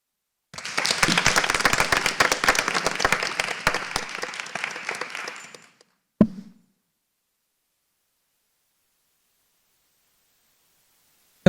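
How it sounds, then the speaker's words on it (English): Applause at a school board meeting fills about five seconds with dense, steady clapping from a room of people, then stops abruptly, followed by a single thud and silence. "Can we give another round of applause to Consuela?"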